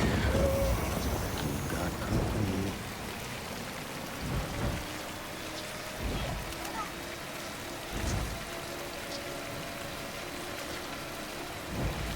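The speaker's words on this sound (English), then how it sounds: "It is raining pretty heavy." Heavy rain in the video game Death Stranding hisses steadily across the whole stretch, with soft low rumbles and thuds beneath the dense downpour and no talking.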